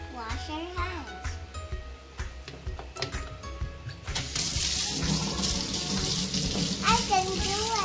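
Tap water runs loudly and steadily into a sink while a child washes hands during a home baking session, starting partway through after speech and continuing to the end.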